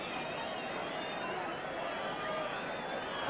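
Football crowd at a 1982 Division 1 match between Tottenham Hotspur and Wolves, a steady distant murmur of expectation ahead of a free kick, with a commentator talking over it.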